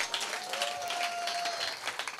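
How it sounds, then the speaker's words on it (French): Audience at a gospel performance applauding, a moderate, continuous patter of many hands with a faint sustained tone running through the middle, no speech over it. "Il faut bien l'applaudir quand même, il faut l'applaudir quand même. Est-ce qu'on peut acclamer très fort?"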